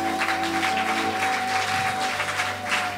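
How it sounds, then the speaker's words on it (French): A church congregation at a Pentecost jubilee service applauds for the Lord, a steady wash of clapping from many hands sustained throughout, with a sustained musical tone underneath. "Acclamez pour le Seigneur."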